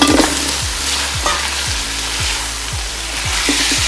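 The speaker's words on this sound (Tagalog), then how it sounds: "Lagyan natin ang ating kalabasa." Squash for pinakbet hits hot oil and sizzles in a pan with bagoong, a steady frying hiss broken by a regular series of soft scraping stirs.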